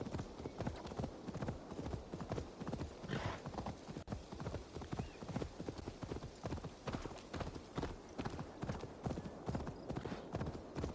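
Horse hooves clip-clop in a steady galloping rhythm, loud and close, in the Viking-era open-world game Assassin's Creed Valhalla, with a brief whinny partway through and no talk over it.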